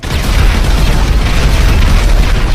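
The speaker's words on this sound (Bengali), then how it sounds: "এই তো এবার স্টিকি বমগুলো ব্লাস্ট করে দিয়েছি।" Sticky bombs detonating in a video game, heard as a loud, dense low rumble of blasts that holds steady across the whole short stretch with no pauses.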